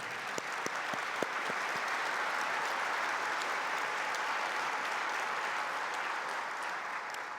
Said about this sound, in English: If you can please join me in giving our sponsors a round of applause who make this possible.